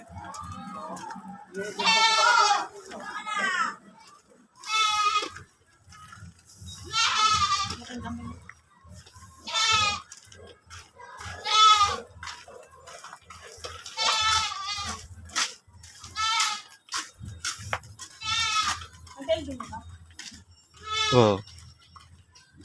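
Goats bleat repeatedly at close range, a dozen or so wavering calls in a steady series, with low background rumble between them.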